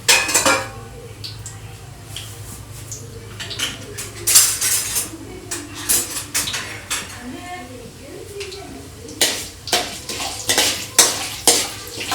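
A metal spoon stirs whole spices (cinnamon, cloves, pepper, cumin) in oil in a pan for chicken fry, scraping and clinking in irregular bursts with a soft sizzle, close by, under occasional talk.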